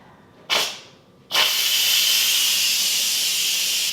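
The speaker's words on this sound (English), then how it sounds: "Just gonna let that sizzle for a second." Potatoes hit a hot pan with a loud sizzle, first a brief burst, then a steady, strong hiss that continues evenly, close up.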